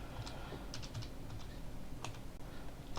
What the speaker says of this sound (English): Typing that into my calculator